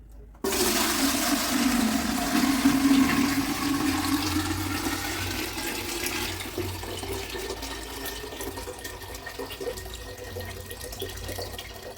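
Water from the Triveni Sangam pours through a filter into a can in a steady, continuous rushing splash, loud and close, gradually thinning and softening toward the end.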